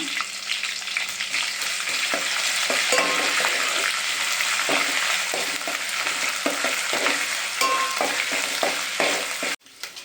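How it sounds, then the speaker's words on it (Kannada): Ingredients for chicken pulao fry in a pan with a loud, steady sizzle, punctuated by frequent light clinks and scrapes of stirring that cut off abruptly at the end. "ಸೊ ಅದನ್ನ ಹಾಕ್ಕೊಂಡು ಫ್ರೈ ಮಾಡ್ಕೊಳ್ಳೋಣ"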